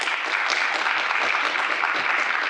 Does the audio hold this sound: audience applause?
yes